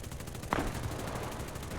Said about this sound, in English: As you can see, all those bullets flying out of the plane.